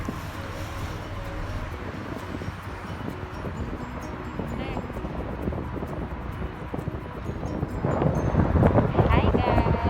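Strong wind buffets the microphone beside Sheikh Zayed Road in Dubai, a steady, loud rushing roar that swells near the end, with no voices audible.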